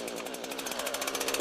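A chainsaw engine runs steadily after starting, with its chain brake still engaged, giving a close, buzzing drone with a rapid pulsing rhythm that swells slightly louder toward the end.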